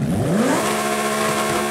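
Lamborghini 6.5-litre V12 engine revving in a racing video game, a loud, continuous, harmonically rich engine note that climbs in pitch at first and then holds a steady high drone.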